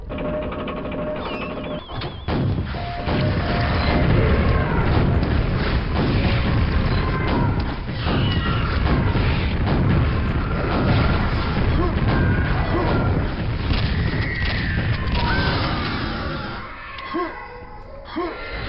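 Rocket launcher blasts and booming explosions in Quake, loud and dense, mixed with clanking mechanical game effects and voices talking over the action.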